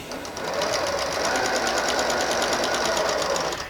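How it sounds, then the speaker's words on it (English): A sewing machine runs steadily, sewing quilt pieces right sides together, its rapid needle chatter forming a continuous buzzing rhythm close by, with no pauses. "We're going to take this over to the sewing machine"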